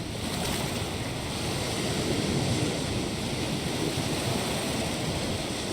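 Ocean waves and surf after a space capsule splashdown in an orbital reentry simulator game, a steady loud wash of water and wind noise with no distinct impact, no talking.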